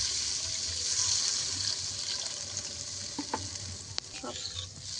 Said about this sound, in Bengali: মশলার সঙ্গে একটু কচুটাকে নেড়ে এপিট এপিট করে দেবো